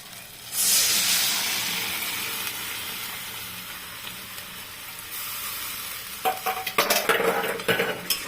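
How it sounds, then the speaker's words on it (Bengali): Red lentils in a pot on a gas stove give off a loud hiss and sizzle, then a spoon is stirred through them with scraping clinks of metal against the pot toward the end. "গ্যাসটা বাড়িয়ে দিয়ে এখন নাড়বো"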